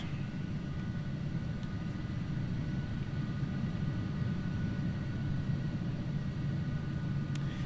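Carenado Hawker 850XP business jet in Flight Simulator X, a steady low engine roar with a faint high whine, continuous and even throughout with no talk.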